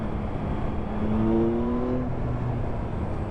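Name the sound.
2023 Yamaha XSR 900 motorcycle engine pulling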